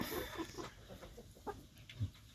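Hybrid laying hens clucking at close range, a few soft irregular clucks and low calls over a steady farmyard background, with no voices.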